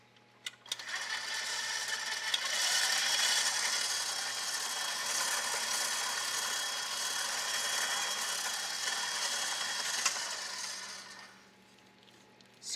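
An electric mixer blending cookie dough for Greek kourabiedes with vanilla runs as a steady, even whir for about ten seconds, starting abruptly and then winding down, with no talking.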